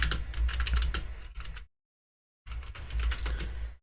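Rapid clattering keystrokes on a computer keyboard, close and steady, a busy run of typing that stops for a silent gap before another quick burst.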